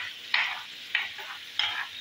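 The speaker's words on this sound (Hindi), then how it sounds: "ये हमारा तड़का है जो बना रहे हैं हम" Tadka sizzling on a tawa before minced meat goes in for qeema: three bursts of hot-oil frying and stirring, each fading into a softer hiss, close and moderately loud with no talk.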